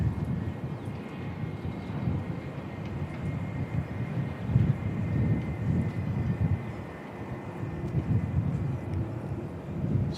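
Jetstar airliner departing Christchurch Airport, a distant low jet roar rumbling steadily under light wind noise, sustained throughout without talk.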